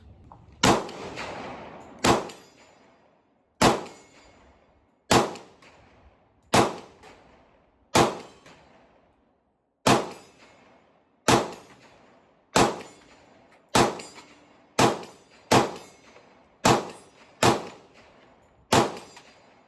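A Kriss Vector 10mm fires about fifteen sharp single shots at irregular intervals, roughly one to two seconds apart, each a loud crack with a quick decaying tail; close and isolated, with no talk.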